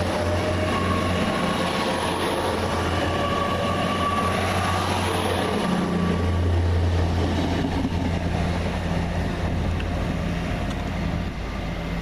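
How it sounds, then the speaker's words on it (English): Train 802-206 pulls out of Reston station on diesel power, a steady loud engine drone with low rumble and rail noise running continuously throughout, no voices. "802-206 departing Reston on diesel power"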